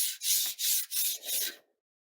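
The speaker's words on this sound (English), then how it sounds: "I've been sanding and sanding and sanding since days immemorial." Sanding a replica of Guts' sword from Berserk, four quick rhythmic back-and-forth rasping strokes of abrasive on the blade, close and crisp, then silence.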